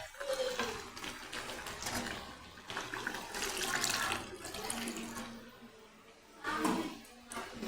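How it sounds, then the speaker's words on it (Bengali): Water is poured into a pot of simmering chicken curry, a gushing, splashing stream that swells and eases in several surges, close up with no talking. "আমি এবার পরিমাণ মতো একটু জল দিয়ে দেবো।"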